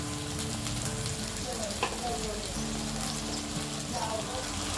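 A ginger, garlic, green chili and coconut paste fries with eggplant for baingan masala, giving a soft, steady sizzle and crackle with a faint stir or two, quiet and unbroken.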